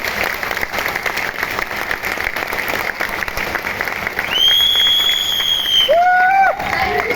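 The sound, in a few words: training audience clapping with raised hands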